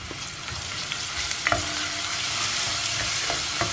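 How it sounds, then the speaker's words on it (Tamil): Onions frying in a pan with ginger, garlic and green chili paste give a steady close sizzle, punctuated by a few light stirring clinks and scrapes, with no voices. "வெங்காயம் வதங்கிடுச்சு, இப்போது இந்த இஞ்சி பூண்டு பச்சை மிளகாய் எல்லாத்தையும் போட்டிருந்தோம் இல்லையா"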